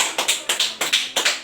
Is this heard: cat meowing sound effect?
no